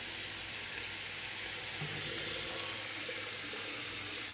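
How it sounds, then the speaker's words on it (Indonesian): A sink tap fed by a newly installed 15-liter water heater runs strongly, giving a steady, close hissing gush of water that continues evenly throughout. "kita nyalakan ini untuk wastafelnya kita nyalakan bisa teman-teman saksikan sangat kencang airnya"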